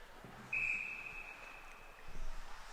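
A referee's whistle at an ice hockey game between Notre Dame and IHA, one sharp shrill blast lasting about a second over steady arena noise, with crowd murmur rising afterward.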